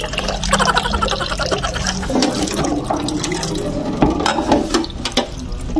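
Tap water runs and splashes while raw chicken is washed in a home kitchen, an uneven rushing stream with irregular spatters and bursts, fairly close.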